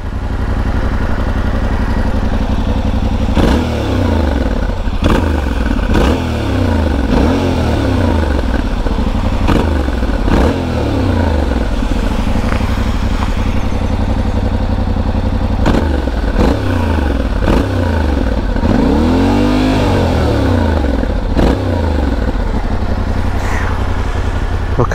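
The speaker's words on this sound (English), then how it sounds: "I know that these make a fantastic noise." Yamaha Tenere 700 with its CP2 twin engine revs up and down, a loud throbbing growl with repeated rising and falling sweeps and sharp blips, plus some mechanical clatter.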